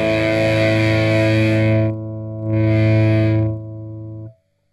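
An electric guitar on its humbucker pickup plays through a Digitech Crossroads Eric Clapton effect pedal. Two loud, distorted chords ring out and sustain, each with a shimmering chorus-like tone, then cut off abruptly. No one speaks.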